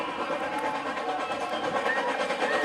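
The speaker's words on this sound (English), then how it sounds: "the ball's over there as the choo-choo train comes past" A train rolls past a football ground during a grand final match, a steady close rumble and clatter with a drawn-out tonal squeal layered on top, loud and continuous.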